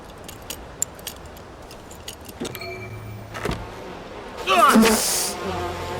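Bees in the video game We Happy Few swell into a loud buzzing near the end, over faint clicks and ambient game sounds.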